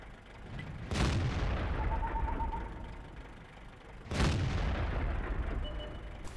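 Tank guns firing in a World of Tanks clan war on the Westfield map near Châtillon, involving E100 and IS-7 heavy tanks: two heavy booming shots a few seconds apart, each ringing out into a long rumble.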